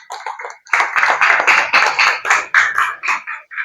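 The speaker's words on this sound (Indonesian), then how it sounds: "kita kasih tepuk tangan buat kelompok 1 dan kelompok 2." Classroom applause for student presentation groups, a quick burst of clapping hands that starts softly and swells into steady, close, lively clapping for a few seconds with no talking.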